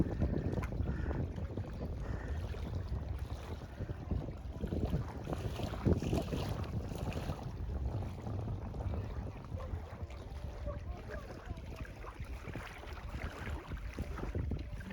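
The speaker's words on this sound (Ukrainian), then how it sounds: "дуже приємний такий вітерець, мабуть, ви всі його чуєте" A breeze blows across a large lake at Horní Planá in the Czech Republic, giving a steady rumbling wash of wind against the microphone with faint water movement beneath and no talking.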